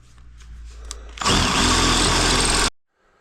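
A power drill whirs loudly and steadily for about a second and a half, enlarging a hole on a Tomos Targa LX moped, after some faint handling noise, then cuts off abruptly.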